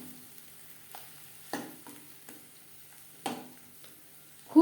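Ground cauliflower-leaf paste frying in a pan over low-to-medium heat, a quiet, steady sizzle broken by a few soft scrapes and knocks from stirring.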